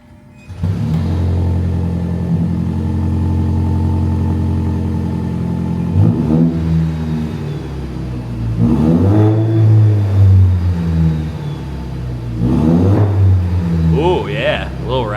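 A 4th gen Toyota Tacoma with an AWE catback exhaust idles with a deep, loud drone, then revs hard twice in rising, raspy swells that fall back to idle, with brief voices in between.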